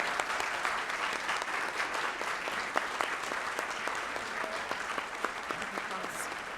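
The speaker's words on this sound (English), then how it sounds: "Let's give them a big round of applause." Steady applause from an audience at a 2019 honor graduates banquet, dense even clapping filling the room for several seconds without a break, crowd noise blended in.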